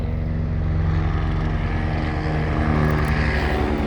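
An aircraft drones loudly and steadily overhead, a continuous propeller-like engine hum with strong low harmonics and no speech.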